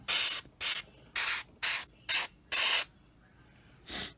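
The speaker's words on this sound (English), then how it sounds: "And we'll go ahead and spray that as well." Airbrush or spray can spraying paint onto a 1/48 Eduard Bf 109E-3 scale model, six short hissing bursts in quick sequence, then a pause and one more, close and alone.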